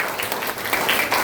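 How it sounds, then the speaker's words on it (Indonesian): An audience clapping for the fathers at a parenting talk, a brief steady burst of mixed handclaps, fairly loud and close. "Tepuk tangan dulu dong buat ayah-ayah."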